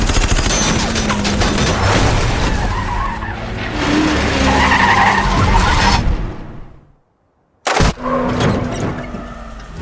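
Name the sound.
car forced off road and crashing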